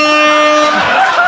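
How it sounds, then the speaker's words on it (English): A loud air horn blast on a live comedy show, a sustained brassy honk at close range that gives way to noisy room sound and voices as it fades. "Perhaps the best timed air horn in this show's history."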